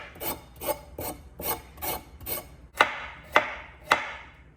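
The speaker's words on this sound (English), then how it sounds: "this is how I normally just get the outside of the carrot off. I just shave it, kind of like this." A kitchen knife shaves the skin off a raw carrot with about eight short, close rasping strokes in a steady rhythm, the last few sharper and crisper, with no voices.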